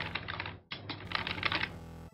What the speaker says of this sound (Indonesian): Misal kita mengetik.